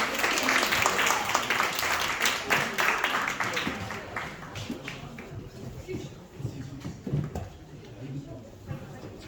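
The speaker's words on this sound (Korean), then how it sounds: "기대를 담아서 박수로 환영해 보겠습니다" A school festival audience in Korea claps to welcome an English dubbing video of a K-pop Demon Hunters scene. The applause is strongest at the start and thins and fades over several seconds into quieter scattered sounds.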